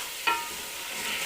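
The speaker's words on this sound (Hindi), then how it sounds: "अब मैं इसमें डालूंगी आलू।" Potatoes are tipped into a pan of frying tomatoes, a brief clatter followed by a steady soft sizzle close by.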